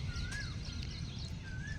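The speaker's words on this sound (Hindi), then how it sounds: "कोयल की आवाज़ तो बहुत अच्छा लगता है।" An Asian koel calls in a village: two rising whistled notes, one near the start and one near the end. The calls are fairly faint and distant over a steady low rumble.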